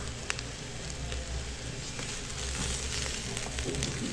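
Bacon sizzling and frying in an electric pressure cooker, a steady crackling hiss with scattered pops throughout, no talk over it.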